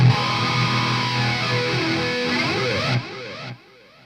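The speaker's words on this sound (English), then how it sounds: "So here's the flanger in front of the amp." A distorted electric guitar chord rings out through a flanger placed before the amp, its sweeping comb-filter whoosh rising and falling, then cuts off abruptly into a fading tail.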